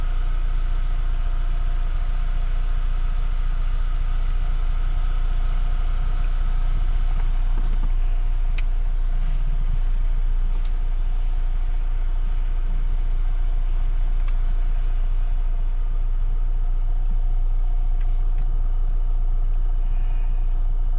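A 2018 Volvo XC60 idles in park with a steady low rumble and constant hum, unchanging and continuous throughout, with no voices.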